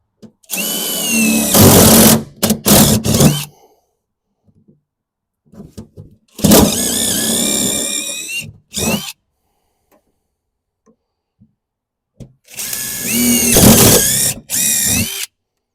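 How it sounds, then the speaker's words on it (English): Power drill boring four holes during a 1,000+ hp turbo LSX 427 Chevelle build, heard as three loud whining bursts of a few seconds each, separated by quiet pauses and short clicks. "Now I'm going to drill these 4 holes here"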